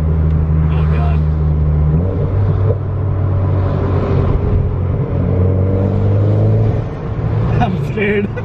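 A tuned bolt-on Mitsubishi Evo X hums and drones steadily from inside the car while driving, its engine and intake note rising and shifting with throttle, under someone speaking.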